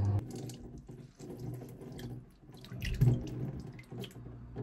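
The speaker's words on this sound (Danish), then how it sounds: "Squeezer vi lige det ekstra vand." Water dripping and trickling as cooked spinach is squeezed by hand, soft irregular splashes and drips with a slightly louder burst near the middle, close and quiet.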